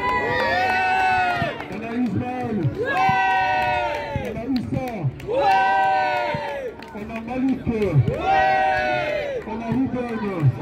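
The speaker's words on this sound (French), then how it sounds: "On applaudit Ethan." At an under-9 youth football tournament final in Belgium, a crowd of young voices cheers and shouts in repeated bursts, each wave answering names called out by an announcer between them.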